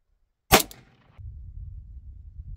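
A single sharp gunshot fired at an outdoor target cracks loudly and briefly, followed by a faint low rumble and quiet.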